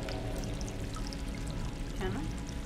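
Water pours into a bucket as a cat fills it in the game Stray, a continuous close rushing stream that holds steady throughout with no one talking.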